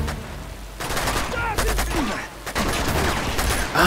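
Gunfire in the video game Uncharted 2, loud sustained bursts of automatic shots and impacts crackling across the whole stretch, with brief drops between volleys.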